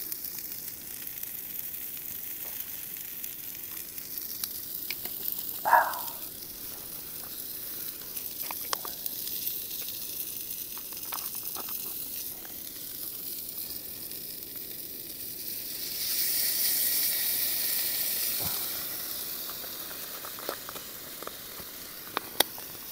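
Food and water sizzle and bubble in a pan on a camp stove at a wild camp in the Lake District; a steady, quiet simmer runs throughout, with one brief louder crackle early on and a fuller hiss toward the end.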